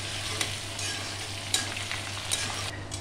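Cashews, chopped ginger, green chilli and curry leaves frying in a pan for milk upma, a close steady sizzle with a few sharp stirring scrapes and spatters, no voices.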